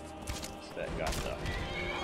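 A horse whinnies in the video game Skyrim, a short high neigh rising mid-moment amid game noise and scuffling, with someone talking over it.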